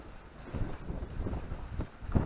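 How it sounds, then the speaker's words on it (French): Wind buffets the microphone in low, rumbling gusts that swell and fade over a steady outdoor hiss. "Ça y est, le vent est monté"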